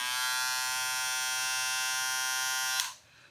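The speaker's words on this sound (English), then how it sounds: "Okay, and now here's the Wall Senior." A Wahl Senior hair clipper runs close by with a loud, steady, bright buzz for about three seconds before switching off sharply, leaving quiet room noise.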